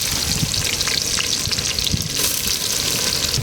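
Onions frying in a pan for a prawn and bottle gourd gravy, giving a steady, dense sizzle with faint scraping and clinks throughout, close and fairly loud with no talking.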